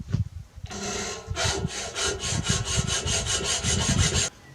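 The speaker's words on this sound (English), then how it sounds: "I'm just doing a bit of filing on the trigger mechanism just to make all the edges nice and square" A steel trigger mechanism on a Victor #3 Softcatch trap being filed, with repeated rhythmic rasping strokes that are close and fairly loud and grow steadier after a short pause.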